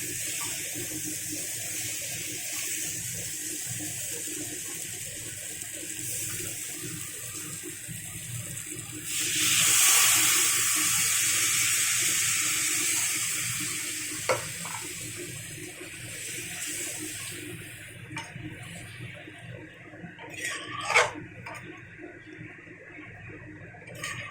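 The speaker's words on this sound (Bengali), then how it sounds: "আমি এখানে পরিমাণ মতো জল দেবো।" Water pours into a pan of chicken curry, a soft steady trickle that swells into a brief louder gush and then tapers off amid light clinks and kitchen handling sounds.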